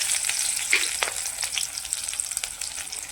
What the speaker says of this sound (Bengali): তো দেখো এটাতে দেবো স্বাদ মতন পাঁচফোড়ন, আর দেবো পেঁয়াজ কুচি